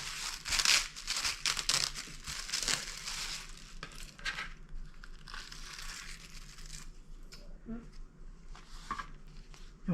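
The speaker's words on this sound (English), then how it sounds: "I'm going to just tear the tissue paper off" Tissue paper is torn away from a freshly sewn seam beside vinyl on a fabric pencil pouch, making close crinkling and ripping bursts that fade to quieter rustling.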